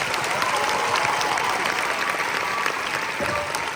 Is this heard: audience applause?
yes